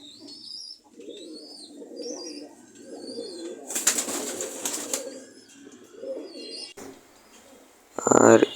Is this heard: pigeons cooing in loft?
yes